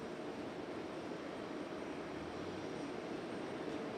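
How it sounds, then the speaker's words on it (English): A Southwest airliner landing at Raleigh Durham airport makes a continuous broad jet roar. The level stays steady throughout at moderate distance, with no voices. "Southwest touching down any minute"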